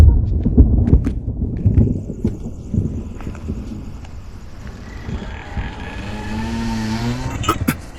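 A car rushes past with a rising tire squeal and engine whine that sweeps upward, loud and close, following a stretch of thumps and scuffling at the start.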